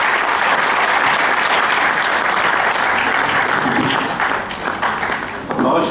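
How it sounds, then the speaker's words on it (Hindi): An audience at an award ceremony breaks into loud, sustained applause, a dense wall of clapping that stays strong before tapering into looser claps, with voices faintly mixed in near the close. "एक बार जोरदार तालियों।"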